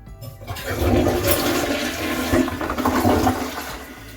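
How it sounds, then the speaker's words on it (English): A toilet flushes strongly just after an unclogging repair and a new seal, with a loud, steady rush of water that carries on for about four seconds and starts abruptly after a brief quiet moment. "That's a pretty decent flush."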